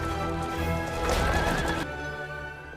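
Horse neighing loudly in Cinderella (2015), a long whinny alongside clip-clop hooves and layered film score, close and prominent throughout with no talking.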